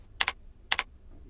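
Two short bursts of crisp computer keyboard typing, each a quick double clack, as a new contact group name is entered, close and clear with no talk.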